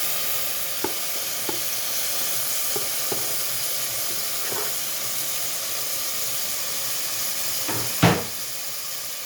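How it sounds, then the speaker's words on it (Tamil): Tomatoes tipped into a hot frying pan of fried ingredients give a steady, loud sizzle and hiss, with a few soft clicks of stirring and one sharper knock near the end; no one talks. "இப்போ நம்ம வந்து டொமேட்டோ சேர்க்குறோம்."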